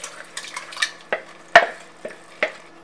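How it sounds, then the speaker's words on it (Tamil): Mutton pieces being stirred into masala in a cooking pan, wet squelching scrapes and soft clinks of a spoon against the pan in irregular strokes, close and moderately loud over a faint sizzle. "கறியில் நல்லா மசாலா மிக்ஸ் ஆகிற அளவுக்கு நல்லா சேர்த்து மிக்ஸ் பண்ணி விட்டுக்கலாம்"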